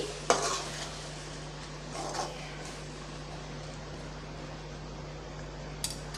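Brinjal thokku is stirred in a pan, with a few soft spoon scrapes and a faint sizzle over a steady low fan hum.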